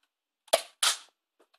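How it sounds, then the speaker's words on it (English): A NERF Firestrike toy blaster fires twice in quick succession, each shot a sharp, close snap with a short springy tail, separated by a brief pause and followed by faint small clicks. "So now we're going to test it in firing. As I said, pull that back and fire it."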